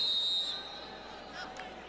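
Referee's whistle at a 1989 CFL football game between the Saskatchewan Roughriders and BC Lions blows one sharp shrill blast that fades into crowd noise.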